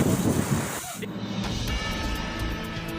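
A sudden strong wind on the coast at Panimbang, Pandeglang, beside a group of fishermen. A loud gust buffets the microphone for about a second, then drops to a lower, steadier rush of air and surf.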